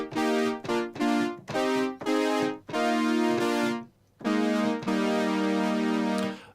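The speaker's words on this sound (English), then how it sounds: "creating 80s stab/brass sounds on different synths" Punchy 80s-style brass stab patch on the Legend VST synth, a series of bright chord hits of varying length, short stabs followed by longer held chords, loud and alone.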